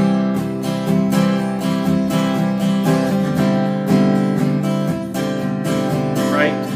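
Acoustic guitar chords are strummed in a steady rhythm while a walking bass line moves up beneath them. The playing is close and clear, with no voice over it.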